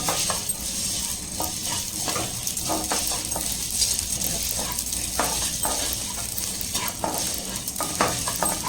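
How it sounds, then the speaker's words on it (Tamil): Poppy seeds and whole spices roast in a pan with a constant light sizzle, punctuated by frequent small scraping taps of a spoon stirring against the metal, with a voice faintly talking underneath. "கசகசா சேர்த்தாச்சு. இப்போ அப்படியே லைட்டாக வந்து ரோஸ்ட் பண்ணிக்கலாம்."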